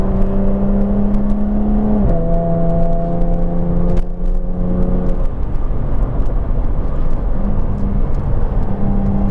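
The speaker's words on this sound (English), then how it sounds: "I've got the active exhaust open, but at low revs, 40 odd miles per hour, still sounds pretty good" Jaguar F-Type with its active exhaust open, cruising at low revs around 40 mph, giving a steady loud engine drone with a pitch dip as the revs shift, under constant road and wind roar.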